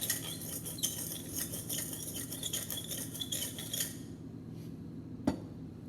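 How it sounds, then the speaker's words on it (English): A big pepper mill is twisted, grinding pepper with a quick, close, rhythmic ratcheting crackle that runs steadily for about four seconds and then stops, followed by one sharp click in the quiet. "I'm going to show you my big pepper mill."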